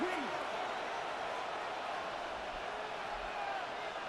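Stadium crowd in a football video game urging the defense on late in a close game against the Lions, a steady, moderately loud roar of voices with no distinct peaks, under the match atmosphere.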